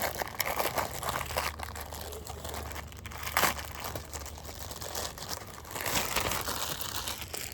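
Crinkling and crumpling of a plastic bag around a Tesla cabin air filter as it is opened, a steady stretch of close, busy rustling with a few sharper crackles.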